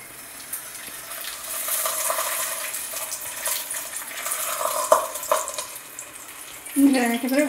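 Aloo paratha frying in hot oil gives a bright, continuous sizzle and hiss, with a few sharp utensil clinks and a louder spitting burst near the end.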